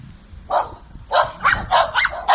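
Six dogs shut in a leaky kennel, puppies among them, bark in a quick series of sharp, close yaps, five or six barks in rapid succession.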